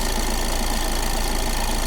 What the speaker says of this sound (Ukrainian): Двигун робить.